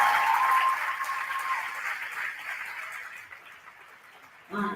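An audience at a school honors night claps loudly and steadily, the applause gradually thinning and fading before a brief final swell at the end.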